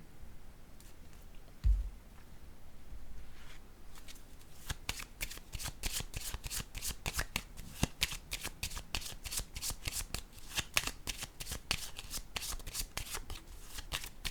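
Tarot cards being shuffled and laid down during a reading, a rapid run of crisp riffling flicks that starts after a soft thump and continues close and steady to the end.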